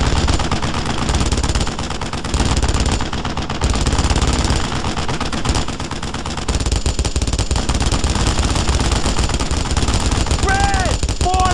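Enemy gunfire in the World War II shooter game Brothers in Arms: Road to Hill 30: loud, sustained bursts of automatic fire rattle continuously with brief gaps, and shouted voices cut through.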